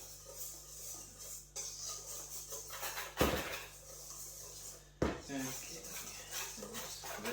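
A dry mix of flour, protein powder, flaxseed and baking powder for vegan pancakes is stirred in a bowl, giving soft scraping with two sharper clinks of utensil on bowl, as a voice talks throughout.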